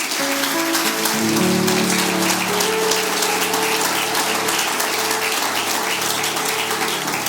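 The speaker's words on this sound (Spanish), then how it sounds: "Dale un aplauso a Jesús" A church congregation applauds during a sermon, a steady wash of clapping that fills the space alongside sustained organ or keyboard tones.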